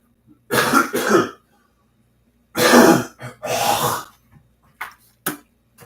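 A person clears their throat several times in forceful, raspy bursts, a pair of harsh rasps, then a longer gravelly run, then short faint hacks, close and alone without talk.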